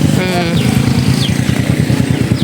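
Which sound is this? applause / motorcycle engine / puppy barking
motorcycle engine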